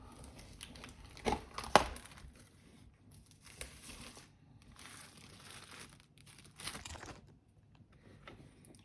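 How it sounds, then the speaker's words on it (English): Plastic foil being peeled and unwrapped from a TicWatch E1 smartwatch box, with soft crinkles and a couple of sharper tearing crackles early on, then quieter intermittent rustling, close and alone. "It's still packed in the plastic foil. So let's open it for very carefully."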